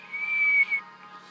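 A single sustained whistled tone holds steady for most of a second, fairly loud, then trails off into quiet hum.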